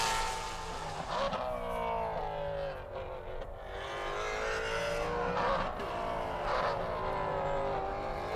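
Maserati Trofeo race cars pass on a Virginia International Raceway track in a 2015 race, engine notes rising and falling steadily as several cars sweep by one after another at moderate distance, with no talk.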